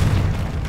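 A Confringo blasting spell explodes in Hogwarts Legacy, a short, loud, deep boom with a rumbling low end that fades slightly over its brief length.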